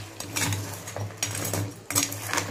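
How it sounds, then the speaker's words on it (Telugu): A spoon stirs crab curry with turmeric and salt in a pot, a run of light clinking scrapes and taps repeated in quick strokes, close and without talk. "కలుపుకుందామండి"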